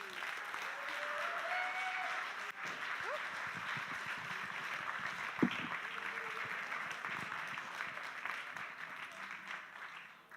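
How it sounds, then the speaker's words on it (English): A live event audience in Liverpool applauds its speakers: sustained, even applause from a sizable crowd, heard at a distance and fairly faint, with a few louder claps and scattered voices within it. "A round of applause for all of our speakers, please."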